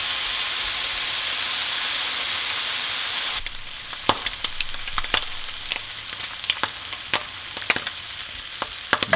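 Bacon and onions frying on a grill for a burger with the lot, a broad loud sizzle that suddenly drops to a quieter hiss dotted with sharp pops and spits from the bacon.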